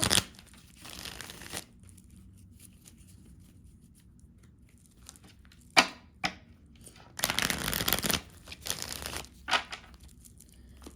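Panther Oracle cards are shuffled in a few short papery riffling bursts with quiet gaps between them, close and soft, with no talk.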